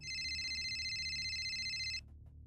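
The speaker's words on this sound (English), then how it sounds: "Mr. Kabutey's phone rings." A mobile phone rings with a steady electronic tone, loud and continuous for about two seconds before cutting off abruptly, with low background rumble underneath.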